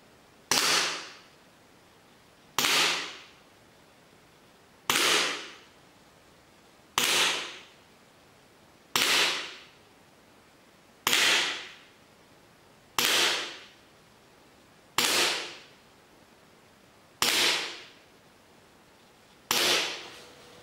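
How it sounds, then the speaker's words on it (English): A Cybergun Smith & Wesson M&P 9C compact airsoft pistol fires nine single shots at a slow, steady pace about two seconds apart. Each sharp crack carries a brief trailing ring, and no voices are heard. "the Cybergun Smith & Wesson M&P 9C actually shoots fairly well"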